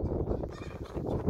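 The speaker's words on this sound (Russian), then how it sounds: "У меня вон там куры живут." Chickens cluck and murmur close by in a low, busy chatter, with overlapping throaty calls and no voices.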